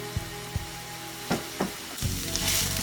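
White wine reducing in a frying pan gives a soft steady sizzle with a few sharp utensil taps and scrapes against the pan, close and alone.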